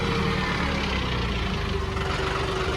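A John Deere 5210 tractor's turbo engine idles continuously at low, steady revs, a constant rumble with a faint mechanical knock and no voices.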